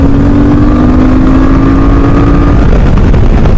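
A loud QJ Motor SRT 800 motorcycle engine roars and accelerates up close, its tone climbing steadily before settling into a dense, rough rumble.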